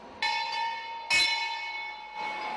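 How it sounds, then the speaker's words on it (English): A school bell rings for break time, loud metallic strokes whose bright tone hangs and rings on between two or three distinct hits, close and alone without voices. "As we arrive, the bell rings as it's break time for the children."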